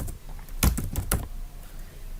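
A computer keyboard is tapped while code is typed, a short cluster of about five close, crisp key clicks packed into half a second, with quiet room tone before and after.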